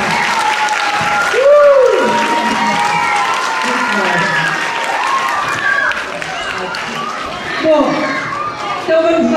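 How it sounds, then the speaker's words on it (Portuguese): Schoolchildren clap during an author's visit to their school, a loud, lively patter of small hands mixed with excited young voices and an adult speaking over the noise. "palmas para todos"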